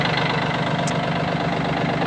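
A Yanmar AF-22 Japanese mini tractor with a rotary tiller idles close by, its engine running smoothly and fairly quietly with a steady, even mechanical drone and no voices.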